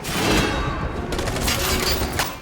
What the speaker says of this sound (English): And Nate is just in here just straight up shooting these people.